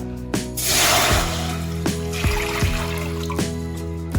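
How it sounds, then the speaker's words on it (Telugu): Water poured from a small vessel into a cooking pot for Bombay rava (semolina), a loud, close gush and splash at first, settling into lighter trickles with clinks of the vessel against the pot. "దీంతో మనం 2 లోటాలు పోసుకోవాలి నీళ్ళు"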